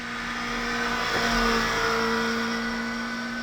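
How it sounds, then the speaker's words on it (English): Kawasaki ZX-4RR motorcycle engine revving, a steady high-pitched inline-four exhaust note that rises and holds with a slight swell midway, close and continuous with no talk. "Put your hand on that throttle and it sounds amazing."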